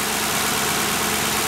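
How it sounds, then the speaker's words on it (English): A Ford Crown Victoria V8 idles steadily up close, a smooth, even engine rumble that stays loud and unbroken throughout. "Now this is how a Crown Vic engine should basically sound."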